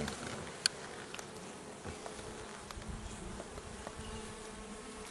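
Honeybees buzz steadily at an open hive, a dense, continuous hum with a few brief louder passes of individual bees close by.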